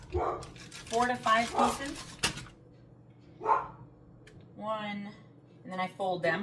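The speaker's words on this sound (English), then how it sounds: "sorry about the barking" A dog barks a few times in short bursts in the background while a person keeps talking over it.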